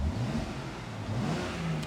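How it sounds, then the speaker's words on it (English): A BMW X3M engine in eco mode revs a couple of times, the low growl rising and falling in pitch, moderately loud and close, with no talking. "Let's give this a couple revs in eco mode."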